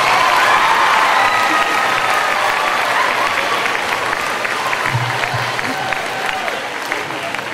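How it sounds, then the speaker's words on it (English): Loud, sustained applause from a large crowd, dense clapping that holds steady throughout with a few scattered cheers. "Let's give everybody another round of applause"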